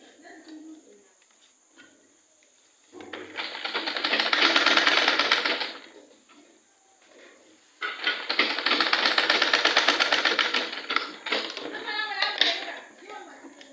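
A sewing machine stitches past the end of a skirt zipper opening in two long steady runs of several seconds each, close and fairly loud, with quiet pauses between them.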